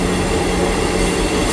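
A Class 158 diesel train rumbles steadily past at close range through Trowbridge station, a continuous loud roar of engine and wheels with no voices.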